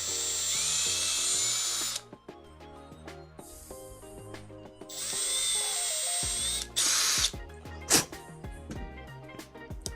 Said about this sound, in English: So let me drill this out first, so I don't run into that issue again that I just had.